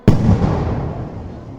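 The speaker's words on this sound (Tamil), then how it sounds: "பாருங்கள் எப்போ வெடி வெடிச்சிருக்காங்க பாருங்கள்." Festival fireworks exploding high in the sky at a temple celebration: one loud, close blast followed by a long rumbling, crackling decay that slowly fades.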